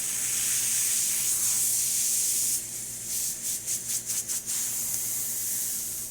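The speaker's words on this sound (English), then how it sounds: "Let me test the steamer too." A La Pavoni espresso machine's steam wand hisses loudly and continuously up close, then sputters in a quick series of pulsing bursts before settling back into a steady hiss.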